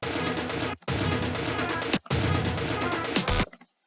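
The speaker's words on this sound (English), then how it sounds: "Then we've just got this little orchestral hit here," A loud, dense orchestral hit sounds three times, each held briefly and then cut off sharply, with a short tail after the last one.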